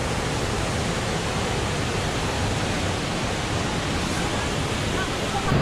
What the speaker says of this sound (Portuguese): a gente já chegou aqui na cachoeira do Itaporani